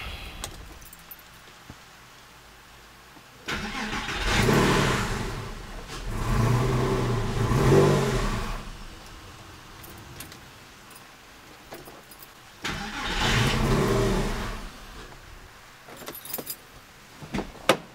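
A Porsche 996 engine cranks and fires after a clutch and rear main seal replacement, with three loud bursts of starting and running that rise and fade, separated by quieter gaps and a few clinks.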